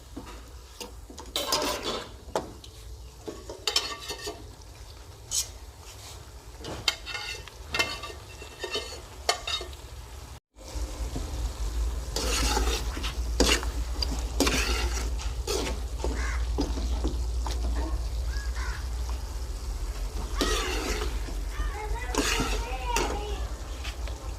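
Yogurt goes into beef karahi cooking in a pot, followed by a spoon scraping and stirring with clinks against the metal, then a steady sizzle of frying that continues beneath a voice.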